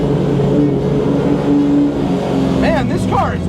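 Lamborghini Diablo supercar engine droning steadily on a racetrack, loud and close, with a rising rev sweep near the end as someone talks over it.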